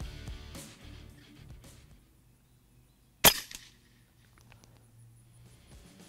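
A Benjamin-style BroCock Commander air rifle fires a single shot from its single-shot tray: one sharp, loud, high-pitched crack amid quiet surroundings, with a brief ringing tail.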